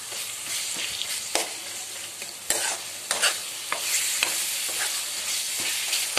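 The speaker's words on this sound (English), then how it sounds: "Just mash the tomatoes." Cooked tomatoes being mashed in a pan, with repeated soft squelching presses and scrapes over a low sizzle, close up and fairly quiet.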